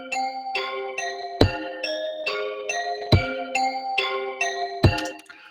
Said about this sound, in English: I got a kick on the 1 and a kick on the 3,